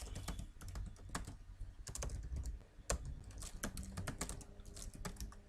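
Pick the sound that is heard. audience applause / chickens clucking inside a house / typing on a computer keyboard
typing on a computer keyboard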